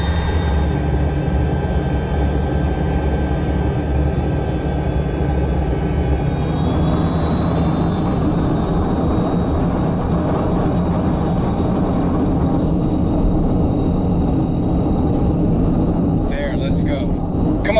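Inside a Soviet Yakovlev-40 jet as it accelerates down the runway, a steady loud roar with a high whine that climbs in pitch, while people talk over the noise throughout.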